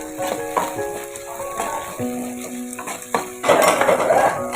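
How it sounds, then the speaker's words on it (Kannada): Avarekalu beans and curry leaves sizzle and fry in a pan, a steady close crackle with a few spatula scrapes and clinks against the metal, louder toward the end. "ಒಂದು ಕಪ್ ಅವರೆಕಾಳನ್ನ ಹಾಕ್ತಾಯಿದ್ದೀನಿ ಕರಿಬೇವು ಹಾಕ್ತಾಯಿದ್ದೀನಿ ಕಾಳನ್ನ ಹುರ್ಕೊತೀನಿ"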